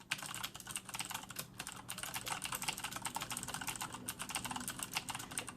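Fast, steady typing on a Corsair K70 mechanical keyboard with Cherry MX Blue switches, a dense run of crisp clicky keystrokes heard close up and alone, fairly quiet overall.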